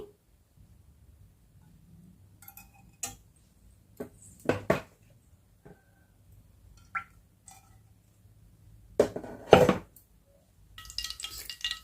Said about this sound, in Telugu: ముందుగా కడాయి పెట్టుకొని 2 టేబుల్ స్పూన్ల ఆయిల్ వేసుకుందామండి